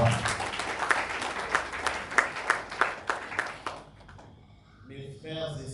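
A congregation at a funeral applauds in rhythmic, steady clapping that swells, then breaks off, followed by a quieter stretch with a voice and faint sounds from the room.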